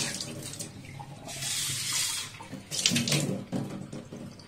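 Filtered water runs from a tap over lucky bamboo stalks as they are rinsed, a close splashing stream that swells and dips in uneven bursts.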